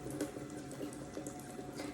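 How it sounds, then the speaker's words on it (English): Hands being washed under a running tap in a sink, a soft steady stream of water splashing continuously throughout, faint and close, with no talking. "The regulated amount for washing your hands is about 20 seconds."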